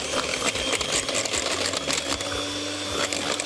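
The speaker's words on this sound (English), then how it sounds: "then you just take a beater, and I want to beat this till it's quite light and fluffy" An electric hand beater whisks sugar into a cake batter, giving a steady, close motor whir with a rattling buzz that holds at an even level throughout, with no talking.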